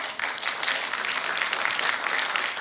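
Dense, steady applause from a large audience at a welcome ceremony in Thane, many hands clapping together for a few seconds without a pause.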